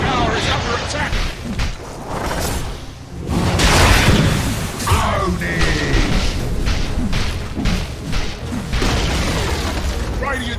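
A Dota 2 tower collapses in a dense run of loud booms and heavy thuds. Whooshes and mechanical clatter from the ongoing battle crowd in around it, and the din stays thick and steady from start to finish.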